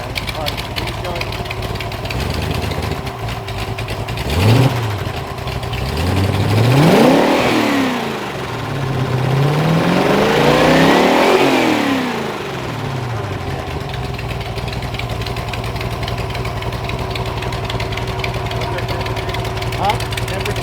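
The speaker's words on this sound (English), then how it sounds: "I'm gonna rev it." Mopar LA small-block V8 (318/340/360 family) on a freshly swapped intake, idling steadily and then revved in several rising-and-falling sweeps, loud and close, with brief talk over it.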